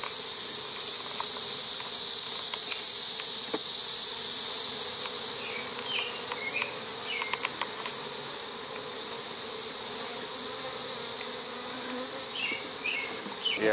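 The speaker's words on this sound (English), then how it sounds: "These are all nurse bees, which are really young bees." Honey bees buzzing densely over fresh comb during a hive transfer, a loud steady high-pitched hum with scattered sharp clicks and knocks of handling, no voices.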